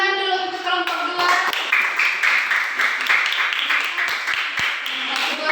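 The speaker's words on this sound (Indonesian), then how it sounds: "tepuk tangan dulu untuk kelompok 2" A classroom group claps for group 2 after their presentation, a steady stretch of dense, close, fairly loud applause from many hands with a voice talking at the start.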